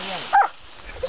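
A dog gives a single short bark or yelp during an armadillo hunt in the countryside, a brief burst amid shouting men calling out for the dogs.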